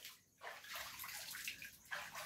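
Someone bathes in flood water, sloshing and splashing in close, irregular bursts of watery churning with brief pauses between strokes.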